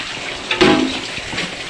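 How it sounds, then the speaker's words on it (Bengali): Water splashes and pours briefly as the water in a container holding freshly caught fish, a snakehead and a climbing perch, is tipped out and changed, a short close gush over a steady watery background. "জল পাল্টাই দাও।"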